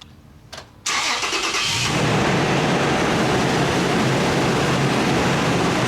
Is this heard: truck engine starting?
yes